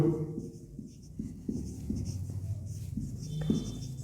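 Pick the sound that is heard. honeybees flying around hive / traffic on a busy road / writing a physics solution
writing a physics solution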